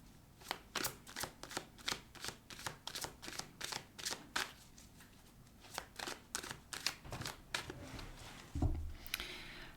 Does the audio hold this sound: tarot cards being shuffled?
yes